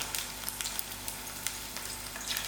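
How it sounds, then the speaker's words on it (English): Okra sizzles and crackles in about 2 centimeters of hot oil, a steady close-up frying hiss with small popping spatters and no talking. "I have about 2 centimeters of oil heated up just for frying out these bhindis."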